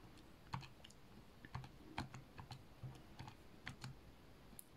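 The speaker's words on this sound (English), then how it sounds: "I'm going to type it in on my calculator to simplify" Calculator buttons pressed in quick, uneven bursts of light clicks, fairly faint against a steady background hiss, with no talking.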